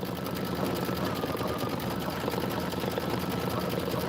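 An embroidery sewing machine stitching out a basket handle design, running with a fast, continuous mechanical whir and needle rattle at a steady pace.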